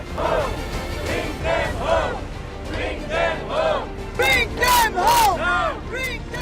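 A large protest crowd in Israel shouts slogans demanding the hostages' return and Netanyahu's resignation, with rising and falling chanted cries over a steady crowd roar.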